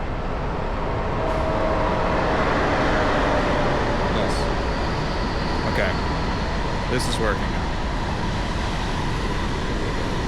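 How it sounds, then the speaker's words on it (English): A steady broadband rumble and hum inside a moving train in Seoul fills the clip, with brief voices and a few faint clicks over it. "the trains here are pretty nice as long as you get a seat"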